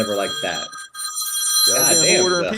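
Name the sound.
mobile phone ringing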